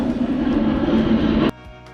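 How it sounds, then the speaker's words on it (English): An aeroplane passes overhead above a riverside fishing spot on the Thames, a steady broad roar that holds for about a second and a half, then drops away abruptly. "there's another aeroplane"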